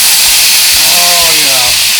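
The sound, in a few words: lemon juice sizzling on frying rainbow trout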